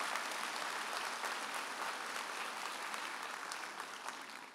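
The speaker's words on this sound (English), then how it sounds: "Could we have a round of applause for these members?" An audience at a 2023 university spring commencement ceremony applauds board members, a broad, steady crackle of many hands clapping at a distance, sustained throughout and tapering slightly at the end.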